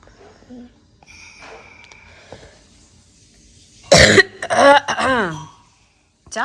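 A person coughs in a sharp, loud burst, then clears their throat with a few rough, voiced rasps, close up after a fairly quiet stretch.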